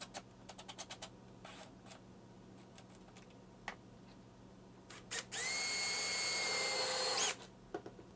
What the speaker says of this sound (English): Centering the drill bits help a lot here